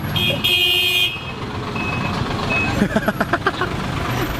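A giant truck on a busy Phnom Penh road rumbles past amid street traffic, with a long horn blast early on, scattered beeps and a loud, close, pulsing engine drone, while voices talk over the scene.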